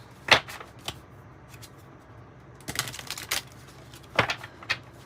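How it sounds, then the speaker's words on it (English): Tarot cards are shuffled in quick riffling bursts, a few separate rounds of crisp flicking with quiet gaps between. "now the sci-fi tarot. Let's get you a little shuffle."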